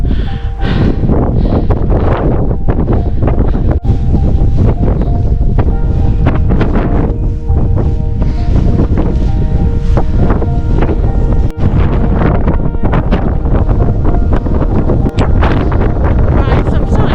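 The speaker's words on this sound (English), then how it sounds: "actually it's very windy, so the wind chill is definitely cold now." Strong outdoor wind buffets the microphone in a loud, continuous roar, gusting throughout on a cold, exposed day, with faint murmurs of speech buried beneath the blustering.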